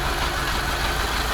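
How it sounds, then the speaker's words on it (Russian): A Kamaz 4310 truck with a smoky diesel engine idles close by, a dense, continuous low rumble with an even throbbing texture and no voices. "Ну вот так он стоит, работает на холостых"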